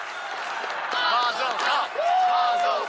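Crowd and fellow competitors chanting Mazel Tov for a ninja on American Ninja Warrior, a lively arena chorus of rhythmic shouts with clapping and whoops, fairly loud and continuous.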